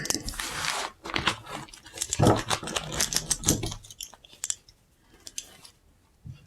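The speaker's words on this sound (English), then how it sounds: "I will pull the cards back so I can reuse them." Tarot cards being gathered back from a table in a reading, giving a rustle of shuffling, sliding and tapping card noises, busy at first, then sparse soft clicks and scrapes.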